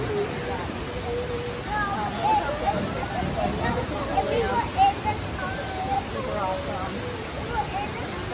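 Waterfall beneath the floating mountains at Pandora in Animal Kingdom at night, a steady rushing wash blended with a murmur of crowd chatter and scattered voices nearby.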